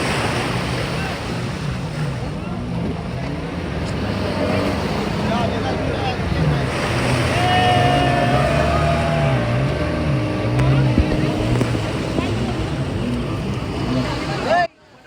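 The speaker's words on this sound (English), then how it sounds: "the last ride of the day was this water scooter" A water scooter runs at sea off a beach in Goa, with a constant loud engine drone, wind buffeting the microphone and rushing water throughout, all cutting off abruptly at the end.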